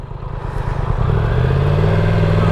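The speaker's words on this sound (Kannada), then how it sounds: "ಹವರ್ ಬೋಟ್ ಇದು. ಆ ಎರಡು ಫ್ಯಾನ್ ಇದೆ ನೋಡಿ, ಅದೇ ಇಂಜಿನ್ನು." A hovercraft driven by two engine fans runs nearby at Dhanushkodi, a rough, loud engine drone with rapid clattering pulses that swells and builds into a steadier roar over a few seconds.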